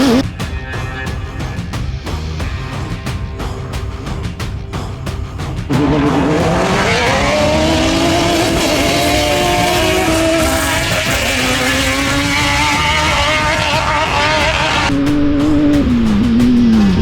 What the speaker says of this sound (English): the Prolite buggies are exciting to watch as they have more than enough horsepower to run at the front of the field